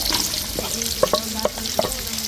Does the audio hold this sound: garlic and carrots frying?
yes